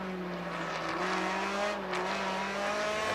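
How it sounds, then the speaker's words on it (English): Mazda MX-5 race car engine drones steadily at Circuit of the Americas during a Continental Tire series race, a sustained buzzing note that shifts pitch slightly as it runs, fairly distant and continuous. "Distinctive engine sound from the Mazda MX-5."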